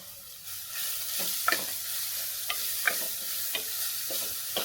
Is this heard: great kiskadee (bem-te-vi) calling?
no